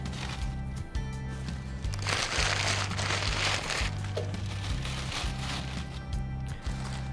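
Newspaper being crumpled loosely by hand to start a fire in a wood stove, a close, continuous crinkling and rustling with a brief louder burst in the middle, over a steady low hum.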